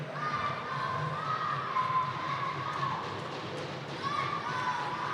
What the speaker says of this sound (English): Getting a lot of cheering from the crowd now in this final 45 seconds